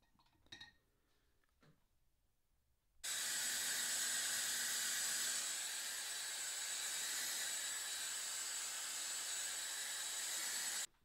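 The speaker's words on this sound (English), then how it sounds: "I'm going to blow dry that" A hair dryer starts abruptly after a few seconds of quiet clinks and runs loud and steady with a constant whooshing hiss until it cuts off at the end, drying a fresh coat of paint.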